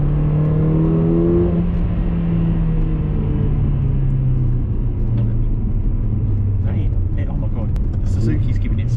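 A 381 bhp Mercedes A45 AMG accelerates in third gear with a loud engine roar that starts high and settles lower, then thins out toward the end. Faint pops from the exhaust come through, and a voice talks over the sound.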